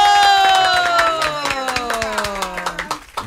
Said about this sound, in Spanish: Un aplauso para Doña Cuca